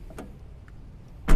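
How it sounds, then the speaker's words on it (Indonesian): Door of a 1997 Daihatsu Taft Rocky pulled open with a light click, then shut with a loud, solid thump near the end, close by and without voices. "Buka tutup pintunya ya enak karena mobil ini pintunya nggak pernah dicopot, nggak pernah disetel-setel"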